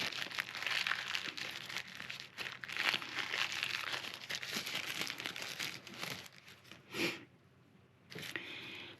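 Packaging of a Hollyland Lark Max wireless lavalier microphone being opened close up, with busy crinkling and rustling of plastic and cardboard that pauses briefly near the end and then picks up again.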